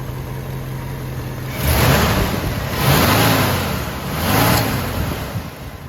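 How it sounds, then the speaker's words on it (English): A 1966 Ford F100 pickup engine idles, then revs up sharply three times in steady succession, each swell rising and falling back. It is loud and close with no voices. "Nice little rev."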